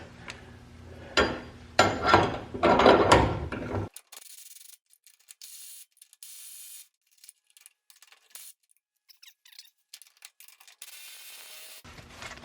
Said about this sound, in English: So next thing I'll do is go ahead and partially tighten these bolts.